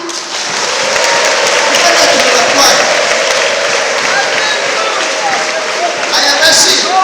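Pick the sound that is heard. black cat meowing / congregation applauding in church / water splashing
congregation applauding in church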